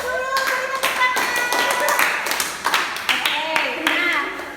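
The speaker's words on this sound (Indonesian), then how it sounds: "Beri tepuk tangan." A class of primary school children claps in a classroom, with quick uneven hand claps and taps in bursts over a steady murmur of young voices and tonal chatter.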